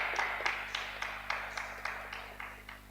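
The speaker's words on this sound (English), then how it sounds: "Round of applause." Sparse, steady clapping from a small group at a hackathon results announcement in Mbarara, faint and evenly spaced over a low hum.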